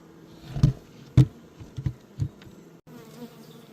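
Honeybees buzzing at an open beehive, a steady close hum of many insects with a few louder passes of single bees near the microphone.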